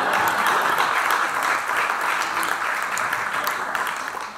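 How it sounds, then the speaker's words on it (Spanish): Audience applause for a performer at a talk on Puerto Rican soundscapes, a steady wash of many people clapping that holds strong and gradually thins toward the close. "Vamos a dar un aplauso a Chupacabra."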